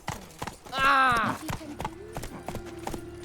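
Geralt's horse Roach galloping in The Witcher 3 Next-Gen Edition, a run of hoof clip-clops with a loud neigh near the start, a steady rhythmic canter close by, under occasional speech.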